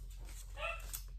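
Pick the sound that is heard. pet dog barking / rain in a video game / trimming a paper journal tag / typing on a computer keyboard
pet dog barking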